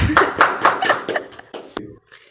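An audience at a family program claps to welcome a speaker to the stage, a quick series of distinct, fairly close claps in a brisk rhythm that stops abruptly, leaving a faint tail.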